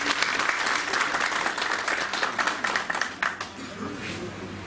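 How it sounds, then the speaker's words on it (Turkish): Sustained applause from an indoor audience at the general assembly of the Erdek drivers' chamber, a dense steady clapping that gradually thins out toward the end, with a voice faintly present beneath it. "hepinizi teşekkür etmek için alkışa davet ediyorum"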